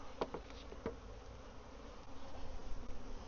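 Honeybees buzzing steadily around an open hive during an inspection, a continuous close drone with a few louder passes near the start and a slight swell toward the end.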